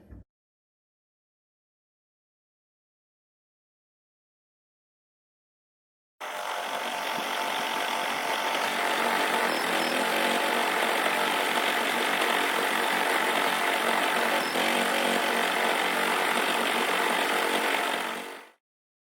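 An embroidery machine stitches a hooped quilt border, starting after about six seconds of silence and running as a continuous dense mechanical whir and rattle, steady and close, until it stops near the end.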